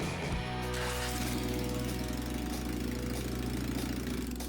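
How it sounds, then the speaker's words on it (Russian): A buggy's engine runs steadily in first gear, turning the drive shaft, with a loud, continuous mechanical rumble and knocking clatter throughout. "Включил первую скорость для проверки вращения привода."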